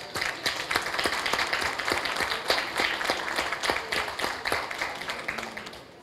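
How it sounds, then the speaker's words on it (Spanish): Senators in the Senate chamber applaud a rescue brigade, a steady round of brisk clapping from many hands that holds for several seconds and tapers off at the end. "las y los senadores les brindamos un saludo y un aplauso en reconocimiento a su labor"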